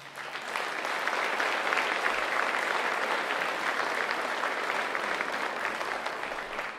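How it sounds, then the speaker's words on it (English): Steady applause from an audience honoring campus staff at a college event, a dense even wash of clapping holding at the same level for the whole stretch with no voices over it. "I'd like just to take another moment and give them a round of applause"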